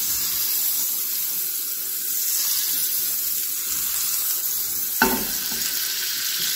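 Butter sizzles in a frying pan over medium heat before French toast goes in, a soft continuous hiss with a brief clank near the end and no voices.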